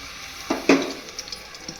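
Cooking oil poured into a hot pan on a stove, giving a brief soft sizzle and a couple of light stirring clinks, fairly quiet and close.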